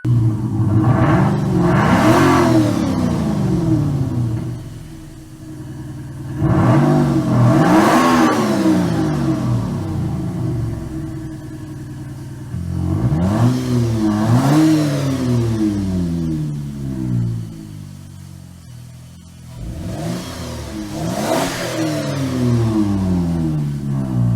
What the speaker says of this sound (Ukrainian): емулює звук вихлопа відповідно тих обертів двигуна, які є в автомобілі